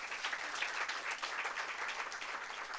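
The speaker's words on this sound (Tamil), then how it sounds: "அந்த பிள்ளைக்கு ஒரு கைத்தட்டல் கொடுங்க ஐயா" An audience at a Tamil literary stage programme claps steadily, dense applause holding at an even level for about three seconds with no voices over it.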